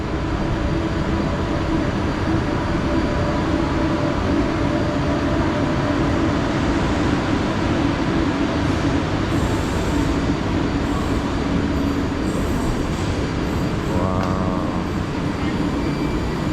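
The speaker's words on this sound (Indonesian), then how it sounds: "Ini adalah kereta api cepat Malaysia menuju ke bandara." Constant loud rumble and whine of the fast KLIA Express airport train in Malaysia in motion, a steady roar with occasional faint chimes or clicks on top.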